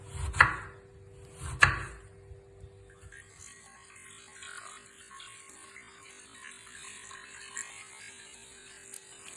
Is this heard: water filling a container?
no